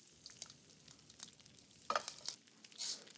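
Cumin and asafoetida crackle in hot rice bran oil, a quiet broad hiss with sharp bursts of sizzle and a brief louder flare near the end, close but faint.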